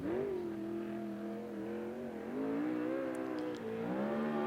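A USAC race car, the number 5, builds speed down the back straightaway at Central Arizona Speedway, its engine a steady, rising drone with slight pitch wavers throughout, heard alone without talk.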